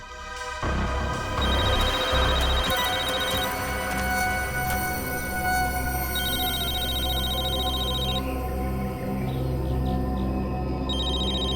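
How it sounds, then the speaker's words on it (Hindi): A mobile phone rings in a scene from the CID crime drama: a repeating electronic ringtone pattern plays steadily over a low musical background for about eleven seconds, with no one talking. "उसे फोन रिंग हो रहा है।"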